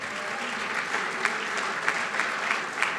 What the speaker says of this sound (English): how about a round of applause for our three partners?